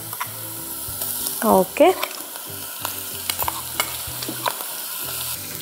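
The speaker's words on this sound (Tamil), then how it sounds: "நல்லா ஃப்ரை பண்ணிக்கலாம்" Slit green chillies fry in a pan for Andhra chilli chicken with a close, continuous crackling sizzle, broken by a few louder stirring scrapes and clinks.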